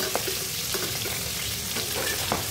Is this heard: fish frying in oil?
yes